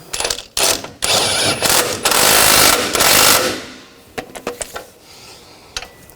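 Wrench ratcheting to snug down rear suspension integral link bolts on a 2000-2006 BMW X5: several close, loud bursts of rapid clicking, then quieter scattered clicks and taps.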